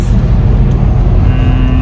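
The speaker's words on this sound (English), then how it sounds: "School bus." A school bus driving past on a road during a Boston to New York drive, heard as a steady, loud low engine rumble and road roar that holds through the whole moment without speech.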